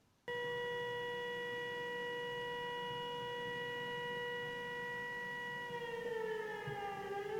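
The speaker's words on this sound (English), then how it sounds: "this isn't just a sample of siren sounds. This is actually how it sounds in my room." Air raid siren in Ukraine heard from inside a room, a steady multi-tone civil defense wail that starts abruptly and holds for several seconds before the pitch begins to bend downward, distant and muffled.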